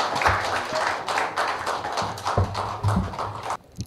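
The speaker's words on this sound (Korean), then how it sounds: "큰 박수 다시 한번 부탁드립니다" An audience at the launch of an election-monitoring network gives a round of applause. The clapping is close and uneven, with distinct loud claps over a low rumble, and it stops abruptly just before the end.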